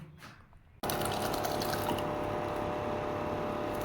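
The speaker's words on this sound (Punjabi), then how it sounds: "ਹੁਣ ਇਹਨੂੰ ਆਪਾਂ ਦਾਲ ਦੇ ਵਿੱਚ ਟ੍ਰਾਂਸਫਰ ਕਰ ਦਵਾਂਗੇ" A sudden loud rush of hot tempering poured into a pot of dal, steady and close, continuing with a dense bubbling hiss after a quiet start.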